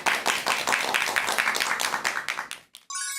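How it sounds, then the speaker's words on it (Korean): Audience applause in a lecture hall greeting a speaker before a talk, dense rapid clapping from many hands for under three seconds, then cut off abruptly. "큰 박수 부탁드립니다."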